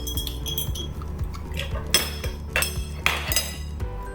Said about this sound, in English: And I have to chop quickly or else there will be no more olives left.